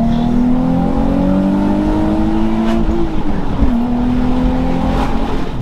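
Nissan 350Z engine accelerating hard, a loud sustained rising engine tone climbing through the gears with brief shift dips, heard close from inside or near the car, with no talking.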